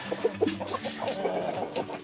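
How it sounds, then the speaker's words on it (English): A Brahma rooster clucks and gives a rough, strangled call, several short bursts close by with steady background noise. "It's one of our big Brahma roosters."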